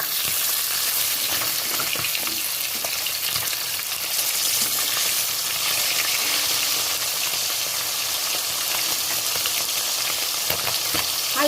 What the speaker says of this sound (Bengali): হালকা করেই ভেজে নেব, বেশি কড়া করে ভাজবো না।